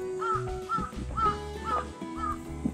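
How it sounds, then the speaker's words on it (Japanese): A crow caws repeatedly in short harsh bursts on an ostrich farm, about five calls spaced evenly, clear and fairly close over a low background hum. "これカラスまでカーって言うようにな"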